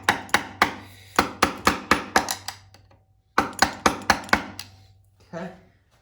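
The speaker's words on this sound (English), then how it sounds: "Gotta hammer these puppies straight." Hammer blows on motorcycle parts being straightened during bike prep, a rapid series of sharp metallic strikes in two bursts with a short pause between, close and loud, followed by a softer scrape.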